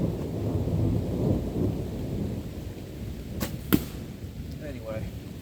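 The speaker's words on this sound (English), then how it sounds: "We got a huge storm coming in" Thunder from an approaching storm rumbles low and steady outdoors with rain falling, and a couple of sharp cracks stand out near the middle.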